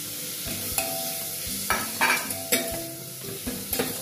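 Green chillies sizzle in a pan as they roast, a steady frying hiss broken by several sharp clinks and scrapes of a spoon stirring against the metal.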